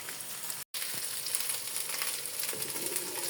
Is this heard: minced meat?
yes